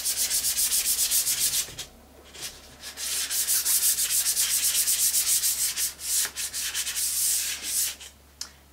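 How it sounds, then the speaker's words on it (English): Close, rhythmic back-and-forth hand sanding strokes scrape across a painted surface to take down texture, loud and brisk with brief pauses between passes. "go ahead and give yourself a little sanding just to take down any texture"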